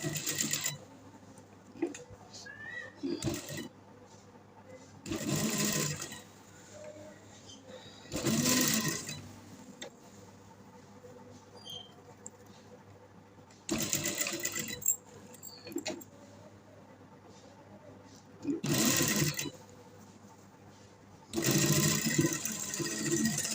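A sewing machine stitching a round neckline on garment fabric, running in several short bursts of rapid whirring separated by quiet pauses, close and moderately loud.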